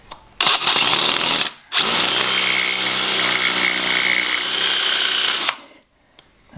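A power drill runs hard while backing screws out of a Ferguson tractor axle in a barn. There is a brief whirring burst, then a short pause, then a long, steady, loud grinding run that cuts off abruptly.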